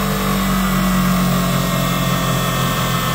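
Porsche engine with a Bosch ignition distributor held high near the rev limiter, a continuous loud buzzing whine with steady tonal harmonics and a slight rapid pulsing, no talk.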